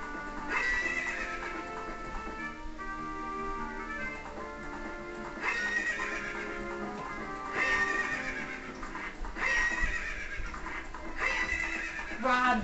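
Repeated horse whinnies with clip-clopping hooves from a horse ridden in a Zelda video game, recurring in bursts over steady game sound.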